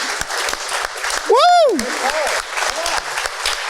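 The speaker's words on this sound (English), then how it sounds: "just everyone give a big round of applause for the presenters" An audience claps for presenters at a live Q&A event, a dense, sustained burst of applause with a loud whooping cheer rising over it before the clapping tapers off.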